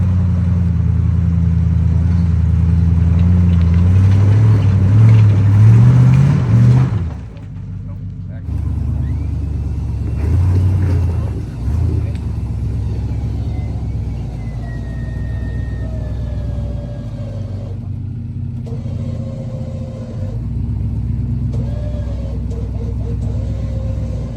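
A truck engine climbs Falcon Hill off-road, first revving hard and loud, then settling to a lower, uneven rumble with shifting pitch. Bursts of wind or handling noise come and go over the running engine.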